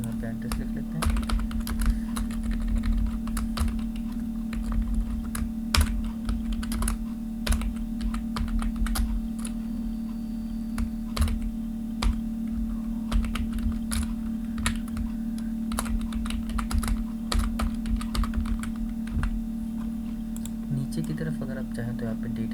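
Computer keyboard keys are tapped in quick, uneven bursts for data entry in an MS Excel spreadsheet, crisp clicks close by over a constant low electrical hum, with occasional speech between runs of typing.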